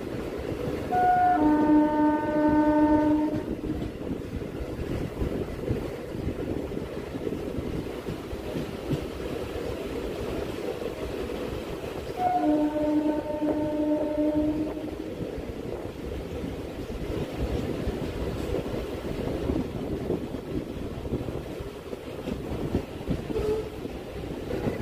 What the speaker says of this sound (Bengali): একেবারে গ্রামের ভিতর দিয়ে আমরা ট্রেনে যাচ্ছি।